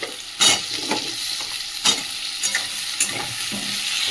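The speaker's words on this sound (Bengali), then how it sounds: "আলুটা একটু ভাজা ভাজা করে নিই" Chopped onions and potatoes fry in oil in a home kitchen, with a continuous sizzle close by and several sharp scraping stirs of a spatula at irregular intervals.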